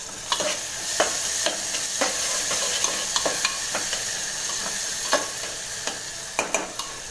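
Bottle gourd and chana dal curry sizzles in a pan while a spoon stirs it, giving steady frying hiss with repeated scraping clacks at an uneven rhythm, close up and without talk.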